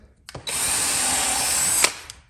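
A cordless drill drives into wood while building a chicken tractor: a single loud, close whine that spins up, holds steady for about a second and a half, then stops.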